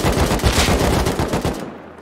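Rapid automatic gunfire in the survival game Rust, loud and close, a dense burst of rattling shots lasting nearly two seconds before cutting off abruptly.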